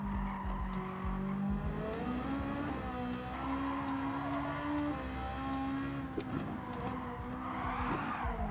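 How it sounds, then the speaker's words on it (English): In Gran Turismo Sport, a tuned Ferrari 430 Scuderia on the Nordschleife oversteers, its tires squealing continuously over a droning, revving engine, loud and close, with clicks of gear changes. "That was fucking wild oversteer."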